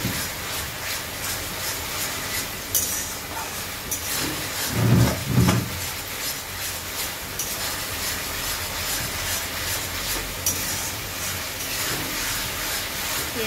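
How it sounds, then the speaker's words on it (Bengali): Cumin and coriander powder sautéed and stirred in a hot pan give a steady, close sizzling hiss, with a brief burst of scraping stirs partway through and no talking. "দিয়ে ভালো করে কষাতে থাকবো।"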